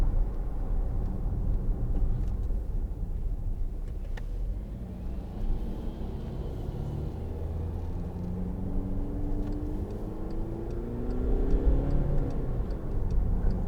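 A 2014 Volkswagen Tiguan 2.0 TDI diesel with a manual gearbox drives along, its low engine and road rumble steady and continuous from a cabin perspective, with no talking.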